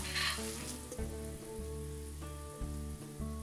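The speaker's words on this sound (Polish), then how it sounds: "I smażymy. Mięso się przypiekło. Cebulka również." Meat and onion fry in a pan with a steady, loud sizzle, interrupted now and then by brief stirring or shifting sounds, with no one speaking.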